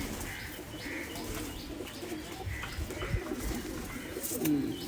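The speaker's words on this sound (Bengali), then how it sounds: "বিগ সাইজ কবুতর ইন্ডিয়ান রামপুরি কবুতর অনেক বড় সাইজের কবুতর" Large Indian Rampuri pigeons give soft, repeated low coos close by over a faint background, with a few light chirps and a brief flutter of wings.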